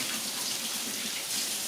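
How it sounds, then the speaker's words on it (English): Kitchen tap water runs steadily as raw-chicken-covered fingers are rinsed during cooking, a constant soft hiss and splatter heard close and alone. "And let's rinse off my fingers real quick."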